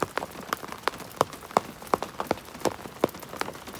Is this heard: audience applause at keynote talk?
no